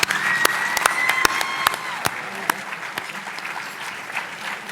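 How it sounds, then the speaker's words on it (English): Guests at an awards banquet applaud for an honoree, a light, fairly quiet patter with a few sharp, distinct claps standing out and a brief tonal sound early, under faint background murmur. "A big round of applause for Neil"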